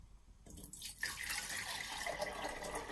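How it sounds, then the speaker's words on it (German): Fresh tap water pours into a vase, starting after a short pause as a bright, steady splashing stream with a rising tone as the vessel fills, close and alone. "Ich fülle das in meine Vase ein."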